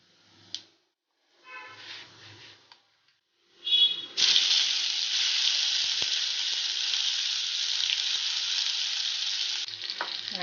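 Onion-tomato gravy hits hot oil in a pan, with a few clinks and scrapes before a loud, steady sizzle and spatter that persists to the end.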